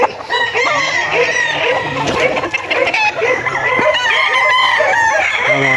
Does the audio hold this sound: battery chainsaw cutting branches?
no